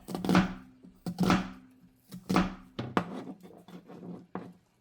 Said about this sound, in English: let's go ahead and start cutting the onion